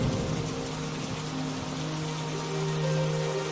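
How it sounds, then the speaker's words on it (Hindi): Heavy rain pours down on a flooded village in a dense, constant hiss, with a low sustained tone humming steadily beneath it and no talking. "तभी अचानक फिर से भयंकर बारिश शुरू हो जाती है।"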